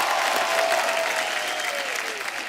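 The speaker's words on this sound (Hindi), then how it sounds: "जोरदार तालियां।" A studio audience at a comedy talk show breaks into loud, sustained applause and cheering, dense clapping filling the room close up and fading slightly toward the end.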